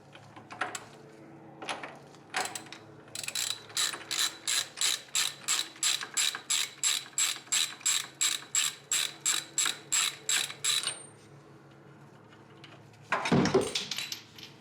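Socket ratchet turning a 27 mm fitting off a Mishimoto oil cooler on a Subaru STI: a few slow clicks, then a long, even run of about twenty close, crisp ratchet clicks, followed by a brief clatter.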